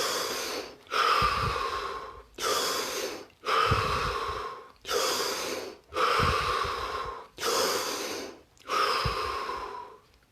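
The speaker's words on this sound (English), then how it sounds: "Take 5 deep breaths." Deep breathing during a guided meditation: eight slow, loud breaths close to the microphone, each a long rushing inhale or exhale separated by short pauses, steady and rhythmic.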